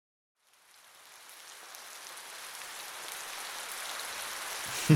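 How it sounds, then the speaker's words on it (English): Rain made to sound as if it drums on a ceiling rises out of silence into a soft, even hiss that slowly swells louder, ending in a sudden brief thump. "getting that rain to go from loud and in your face to quiet and making it sound like it was actually hitting the ceiling"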